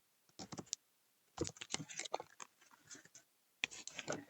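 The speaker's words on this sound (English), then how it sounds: "Oh, these scissors are so dull." Dull scissors snipping through paper ephemera for a Christmas journal, heard as clusters of short crisp cuts and rustles close by, with pauses between bursts.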